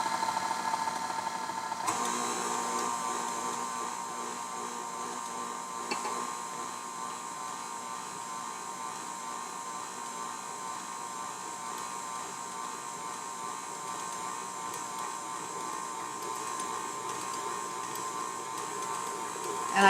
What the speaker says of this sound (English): And I have the KitchenAid set on speed 2